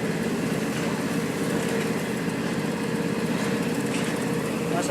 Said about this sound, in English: Good little garden tractor.